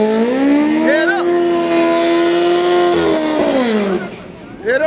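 Cars in a heads-up drag race at a bridge wars grudge and shakedowns event, with a loud, sustained rising and falling engine whine and a crowd and voices talking nearby.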